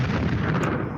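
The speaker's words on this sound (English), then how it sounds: "I think the second part of the sound effect is the actual explosion sound" An explosion sound effect from the video game Owlboy: a dense, rumbling blast that roars steadily for about a second with no gaps, loud and close.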